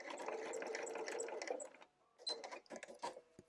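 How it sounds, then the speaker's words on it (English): A sewing machine stitches quilt binding in a steady, close, rapid whir, then stops briefly and restarts with a few short bursts of stitching. "I'm going to stitch right to the point"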